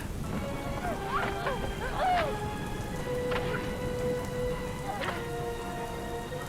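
Steady heavy rain hisses through a rainy movie scene, with faint musical tones and brief chirps drifting over the constant downpour.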